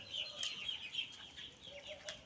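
Chickens cluck softly and steadily in a poultry house where eggs are laid, several birds calling over one another at moderate distance with no talk.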